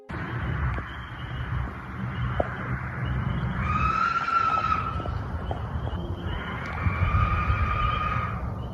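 At night near a forest edge, long rising and falling screams wail twice, loud and drawn out over a low rumbling background, with a few scattered clicks.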